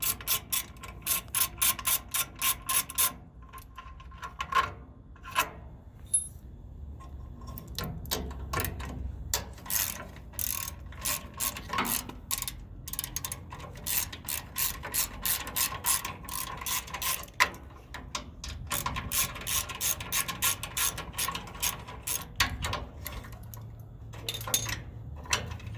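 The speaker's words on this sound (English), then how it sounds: "with the torque socket, you can just take off the two bolts" A ratchet turns a torque socket to back out the two bolts holding a NOx sensor on a Freightliner Cascadia truck, giving long runs of rapid, close clicking broken by brief pauses.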